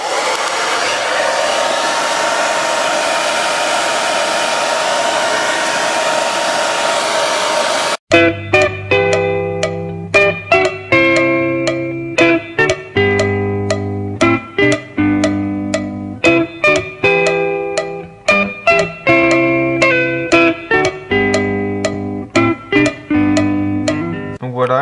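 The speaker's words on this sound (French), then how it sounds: "moi je les chauffe avec un sèche-cheveux" A hair dryer heating engine bearings blows with a steady, loud whoosh close by for several seconds, then stops and bright plucked music takes over.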